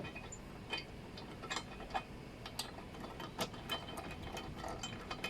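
A size 12 wrench removes bolts from a 2012 Honda Click 125 motorcycle, producing a fast, faint run of scattered ratcheting ticks and small metallic clicks close by, with no talking.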